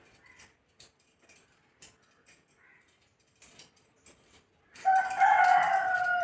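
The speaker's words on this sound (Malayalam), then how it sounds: "നമ്മൾ സംസാരിക്കുമ്പോൾ മാത്രം" A rooster in a home backyard lets out a sudden loud crow near the end, following a stretch of quiet clicks and light shuffling.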